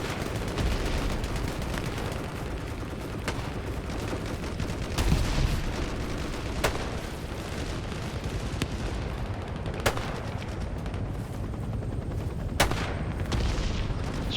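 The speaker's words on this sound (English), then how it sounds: "I'm getting shot at near the fight." Dense battlefield gunfire in the Vietnam War shooter Hell Let Loose, a steady rattle of rifle and machine-gun bursts with sharp nearer shots standing out at intervals over a continuous din of distant firing.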